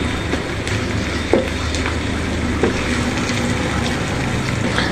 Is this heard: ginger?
yes